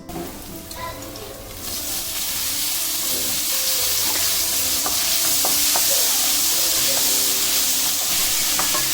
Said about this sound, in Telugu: ఉల్లిపాయలు ఈ విధంగా వేగిన తరువాత పసుపు, అల్లం వెల్లుల్లి పేస్ట్ వేసి పచ్చి వాసన పోయే వరకు ఫ్రై చేసుకోవాలి